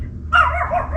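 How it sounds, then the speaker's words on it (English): A dog gives a single short, sharp bark indoors, close and fairly loud, over a low background hum. "Stella is barking because there is"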